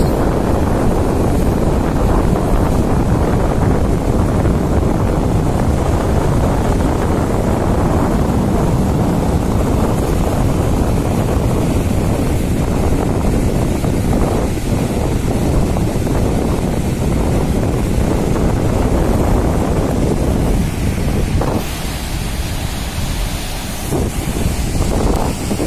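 Strong wind at Plawangan Puger beach on the surf-pounded coast, a loud continuous buffeting roar across the microphone with breaking waves underneath, easing slightly near the end, with no voices.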